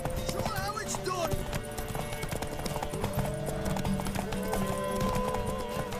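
Horse hooves clip-clopping in The Witcher 3, a steady trotting rhythm under a dense mix of game music, voices and background noise, with a brief whinny.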